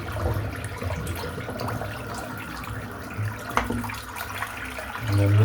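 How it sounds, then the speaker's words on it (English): Water runs from a bathroom tap into a sink during a shave, a steady close splashing rush that thickens toward the end as the basin fills. "while it's filling the sink up"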